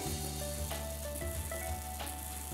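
Waffle batter sizzles steadily on a hot waffle pan, a soft continuous frying hiss with faint rattles, quiet and alone beneath a steady background hum.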